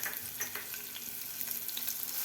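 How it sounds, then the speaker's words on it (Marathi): Green chillies sauté in hot oil with asafoetida and turmeric for an aloo shimla mirch sabzi, giving a steady close sizzle and crackle throughout with faint stirring and no voices. "मिरची थोडीशी परतून घ्यायची आहे"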